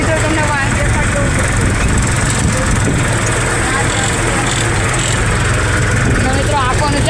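A tractor engine runs steadily while working a farm field, a continuous mid-low drone that stays close and loud throughout, with someone talking over it.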